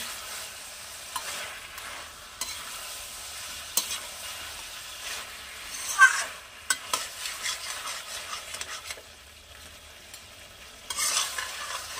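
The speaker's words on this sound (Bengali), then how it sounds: "মাছের মাথাটা দিয়ে আমি ভালো করে নাড়িয়ে চাড়িয়ে নিয়েছি" A fish head being stirred with masala in a frying pan for a Bengali dish: gentle sizzling under repeated scraping and clattering strokes of a spatula, bursts clustering around the middle and end, no voices.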